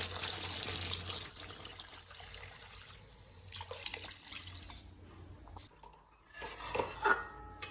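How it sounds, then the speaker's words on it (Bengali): Water is poured into a pan of cooked-down fish curry masala for a rohu and pointed gourd curry, a close splashing gush over the sizzling pan, tapering off before a final clatter and hiss. "এবার আমি দিয়ে দেবো পরিমাণ মতন জল"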